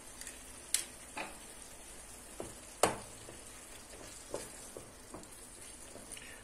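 Eggs cook in a pan for Turkish-style menemen, also called chakchouka, with a faint, steady sizzle. Sharp clicks and taps of a utensil against the pan come through at irregular moments.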